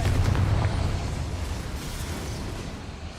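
A Confringo blasting spell going off in Hogwarts Legacy, a deep rumbling explosion that is loudest at the start and then trails into a long, low roar, with no voices over it.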